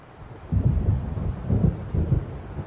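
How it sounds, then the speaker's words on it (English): Thunder from an approaching storm over the lake waters in the video game Alan Wake Remastered: deep, low rumbles rolling in several swelling pulses, heavy and resonant with no voices. "It seems there's a storm coming."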